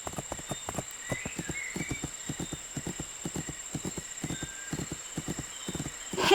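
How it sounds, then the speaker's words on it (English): In the video game My Little Riding Champion, a horse's hooves beat a quick, steady galloping rhythm of close, clear clip-clops, with faint game tones in the background and no talking. "I should change to a gallop and give it a try"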